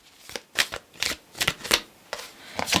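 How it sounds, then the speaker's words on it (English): Tarot cards being shuffled close up, a quick run of crisp riffling bursts in an uneven rhythm, with no talk. "Please show us the cards, Sahu."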